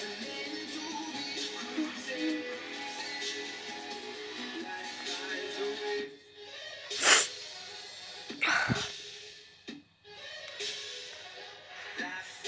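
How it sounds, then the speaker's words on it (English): A person sneezes twice in quick, sharp bursts, loud and close, over a steady pop song playing in the background. "Sorry, I'm sneezing."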